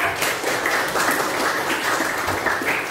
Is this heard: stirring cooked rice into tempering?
no